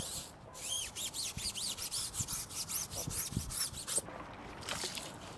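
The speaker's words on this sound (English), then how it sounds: "Next up, Detail Factory tire brush. It's gonna give us that good scrubbing power." A Detail Factory tire brush scrubs a wheel's tire during a deep clean, making a rapid series of close, raspy bristle strokes in a steady back-and-forth rhythm, with no talking.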